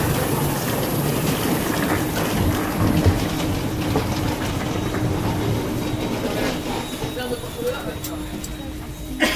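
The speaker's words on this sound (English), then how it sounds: "Waiting for the train. Should be coming any minute now." A train rumbles and rattles steadily close by, with clattering wheels and a low engine drone under scattered voices.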